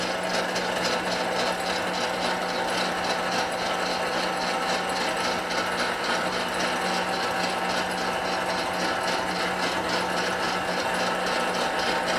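An L.E.M. meat grinder runs steadily while grinding dry aged venison, giving a continuous close, loud motor whir with a rapid mechanical rattle that stays even throughout.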